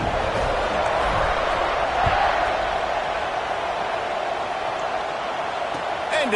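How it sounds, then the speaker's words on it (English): A large football stadium crowd murmurs and buzzes continuously after a touchdown, a dense, steady roar of many voices heard from a distance with no distinct cheers standing out. "this crowd is buzzing after that last score"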